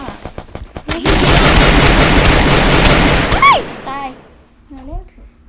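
A burst of loud rapid gunfire in the video game Free Fire lasts a few seconds, preceded by a few single shots and followed by lighter game effects and a chirp.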